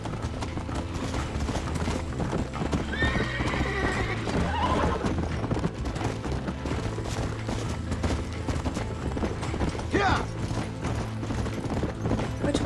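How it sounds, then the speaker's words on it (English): Horse whinnying and hooves clip-clopping at a gallop in the Red Dead Redemption video game, a long whinny rising midway over steady hoofbeats, with game music and ambience underneath. "this poor horse is going to be toast"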